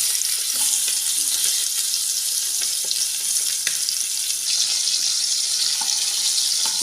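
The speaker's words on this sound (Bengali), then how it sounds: "তেলটা গরম হয়ে গেছে, আমি মাথা দুটো দিয়ে দেব।" Two rohu fish heads fry in hot oil in a kadai, a loud, continuous close-up sizzle scattered with sharp crackles and pops, with no one talking.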